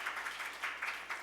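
An audience at a medical society's founding-anniversary academic conference applauds steadily, a dense, fairly faint wash of many hands clapping with slight rhythmic swells and no voices.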